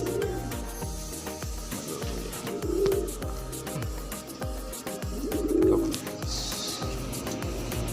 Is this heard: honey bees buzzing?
no